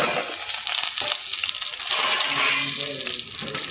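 Stuffed eggplants frying in oil in a covered pan give a steady, close sizzle with bright crackle and light clatter throughout, and no one speaks.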